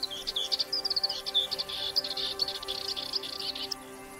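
Insects buzz and trill on lowland heath in spring. A steady, layered drone is broken by quick, high chirps close by, with no voices.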